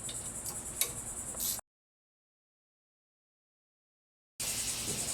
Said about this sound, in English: So we're going to go ahead and take this bolt off.